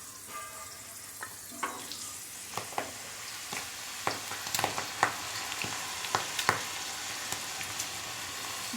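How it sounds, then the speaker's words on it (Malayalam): Jackfruit pieces dropped into hot oil for chakka varuthathu, a low steady sizzle with scattered sharp crackles and pops, close up and fairly quiet, no voices. "എണ്ണ ചൂടായിട്ടുണ്ട്. അപ്പോൾ നമുക്ക് ബാക്കി കുറച്ചായിട്ട് ചക്ക ഇട്ട് കൊടുക്കാം."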